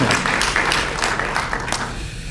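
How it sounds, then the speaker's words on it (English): A small public engagement meeting audience gives a short round of applause, close uneven clapping that tapers off within a couple of seconds. "round of applause from Michael Peters"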